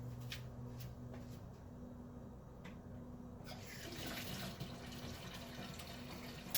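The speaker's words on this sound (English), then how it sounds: "now we're gonna go fill our kettle" Hot water runs from a kitchen sink faucet into a kettle beside induction plates; a quiet room tone gives way midway to a steady, soft rush of flowing water that continues to the end.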